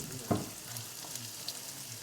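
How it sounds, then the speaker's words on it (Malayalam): Finely chopped onions frying in a pan sizzle with a soft, continuous crackle, opening with one brief knock of a spoon, with no talking. "അരിഞ്ഞ ഉള്ളി ഇങ്ങനെ കുനുകുനെ ഇട്ടെടുക്കണം"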